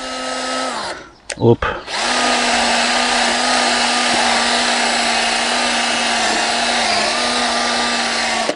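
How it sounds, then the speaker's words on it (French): A wire brush mounted on a cordless drill scrubs surface rust off the rear brake drum of a Dodge Charger SRT8, making a loud, steady whirring grind. It pauses briefly near the start while a person speaks, then resumes. "Pour ça, je vais me servir d'une brosse métallique que j'ai fixée sur ma visseuse."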